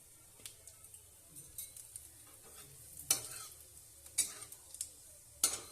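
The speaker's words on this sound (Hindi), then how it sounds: "अब इसमें डालेंगे हम जीरा। हमारा जीरा सब फूटना चाहिए।" Cumin seeds sizzle in hot oil for aloo baingan sabzi, a soft crackling hiss with a few louder spoon clatters against the pan, close and fairly quiet.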